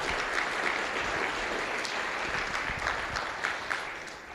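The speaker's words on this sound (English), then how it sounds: "A round of applause to them as well." Conference audience clapping in a hall, a dense, continuous patter of many hands at moderate loudness that holds steady and then begins to taper off toward the end.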